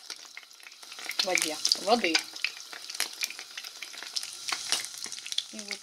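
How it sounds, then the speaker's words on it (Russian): Pastry batter with egg and green onion crackles and sizzles in hot oil in a pan, a steady close frying hiss with scattered pops, while someone speaks briefly over it. "Сейчас мы разогреем сковородку с маслом и будем обжаривать."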